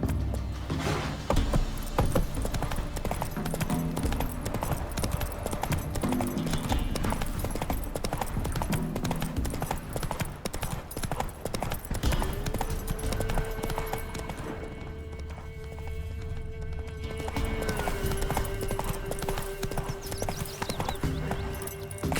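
A horse gallops in The Witcher 3, the steady clip-clop of hooves running continuously over game music and ambience, with occasional snorts and whinnies.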